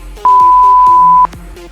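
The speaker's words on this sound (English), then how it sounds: "Keep going till you hear the beep" A single sustained electronic beep at a steady pitch lasts about a second, clear and loud over quiet background sounds, marking the end of an exercise in a chair workout.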